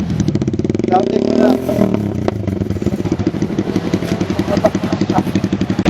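A motorcycle engine at a checkpoint starts and revs hard with popping exhaust bursts and clattering idle, loud and close, while people talk over it.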